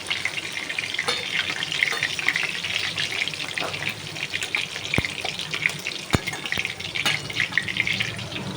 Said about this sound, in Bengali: দেখুন পরের বার দিয়েছি, ভাজা হচ্ছে চিকেনগুলো